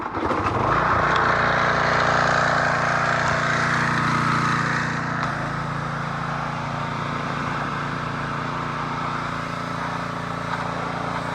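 A pressure washer blasts the rusty undercarriage of a car coated in degreaser, a loud steady motorized roar with a hissing spray that drops slightly in level partway through, no voices.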